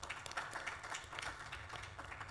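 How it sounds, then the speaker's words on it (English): An audience clapping at a fund launch event, a soft, scattered patter of hand claps that stays fairly quiet and even from start to finish. "The hand clap should be louder than that"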